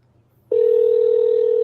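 A telephone dial tone switches on abruptly after a brief quiet moment and holds as a loud, steady, unbroken tone.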